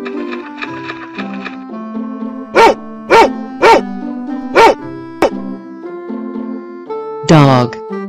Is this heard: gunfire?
no